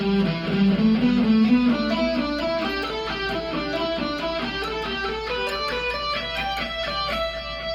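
A fast electric guitar pentatonic run of rapid, clearly picked notes moving steadily through the scale, from a solo, loud and sustained, played alone without talking.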